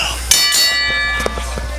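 A wrestling ring bell clangs a few quick metallic strikes to open a tag team championship match, ringing out close over a low arena background.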